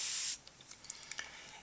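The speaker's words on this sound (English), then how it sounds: "You can hold your spray gun like this." A brief, faint hiss of Copic airbrush spray lasts a moment before cutting off, followed by a few soft clicks and taps in near silence.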